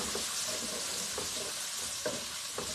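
Vegetables sauté in a pan for an Indian Chinese dinner, a soft, even hiss of frying broken by a few light stirring scrapes, fairly faint and close.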